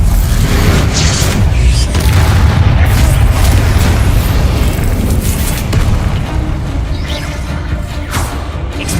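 Repeated Bombarda blasting-spell explosions in a wizard school video game, a dense, loud run of deep booms and crashes rolling on continuously for the whole stretch with no pauses.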